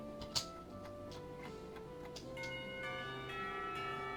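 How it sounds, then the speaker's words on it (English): School bells in the Katawa Shoujo game ring out to end the lunch break, a sequence of clear sustained chimes with a sharp first strike, overlapping tones layering and swelling toward the end. "It isn't long before the bells are"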